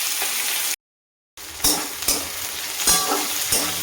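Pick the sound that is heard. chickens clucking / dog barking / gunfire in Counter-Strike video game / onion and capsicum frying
onion and capsicum frying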